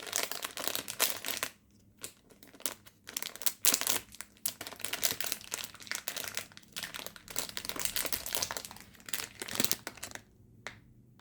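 A PopMart surprise package wrapper is torn open and crinkled up close, with loud bursts of plastic crackling and rustling separated by brief pauses.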